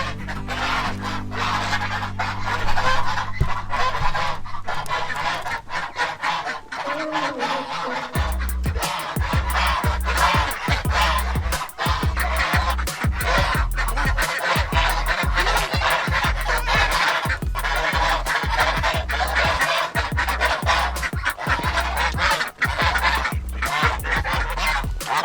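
Farm ducks and other fowl calling steadily in a loud, busy chorus of honks and quacks, a low engine-like hum under the opening seconds, no talking.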